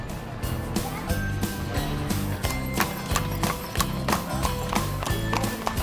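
Horse hooves clip-clop in a steady, repeated rhythm as a horse-drawn carriage moves along in Nicaragua, the hoofbeats close and fairly loud against a constant low rumble of wheels and road noise.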